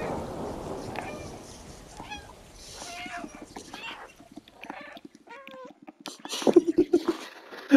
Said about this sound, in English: I just love that meow for this cutscene.